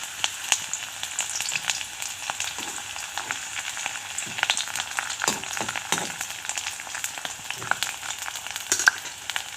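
Onions fry in hot oil in a wok, a steady crackling sizzle with scattered pops and light stirring clatter throughout, close and moderately loud with no talk.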